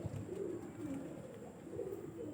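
Pigeons in a loft of a champion-bloodline breeding coop in Yogyakarta give soft, low, repeated cooing calls, close by and fairly quiet over a faint background hum.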